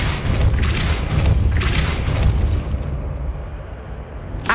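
A Depulso spell blast from the Hogwarts Legacy video game, a loud, sustained booming rumble with crackling bursts that swell and fade over several seconds, ending in a sharp final burst.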